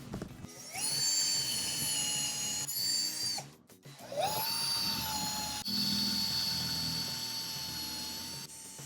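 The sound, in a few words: drilling pilot holes into wall studs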